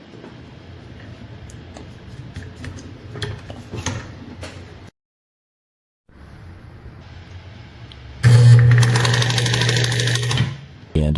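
A sewing machine turns its motor pulley, belt and flywheel in a steady mechanical whir with light ticking. A pause falls partway through, then it runs louder and harder for a few seconds, with a voice speaking over parts of it.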